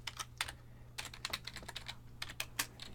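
Typing on a computer keyboard, quick close key clicks in irregular clusters with short pauses, fairly quiet over a low steady hum.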